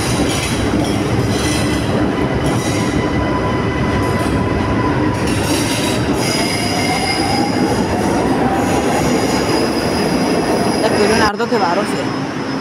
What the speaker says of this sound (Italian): spero che questo treno qui ritorni indietro che mi porti a Loreto